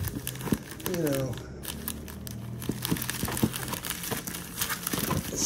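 A cardboard package is cut and torn open indoors in an office, giving close, busy crinkling, tearing and rustling of packaging, with a voice speaking briefly.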